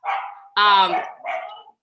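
A pet dog barks indoors three times in quick succession, the middle bark louder and more tonal, close to the microphone with silence in between.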